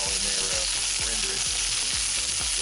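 Okra sizzles steadily in rendered hog fat in a pan, a loud continuous frying hiss with repeated soft low thumps as pieces are rolled and stirred.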